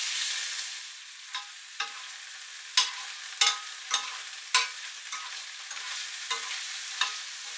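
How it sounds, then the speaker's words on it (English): Oil sizzles steadily with a bright hiss as beef fries in a pan, punctuated by sharper crackles and pops every second or so. "I'll just fry that, keep it turning and frying until it's browned off"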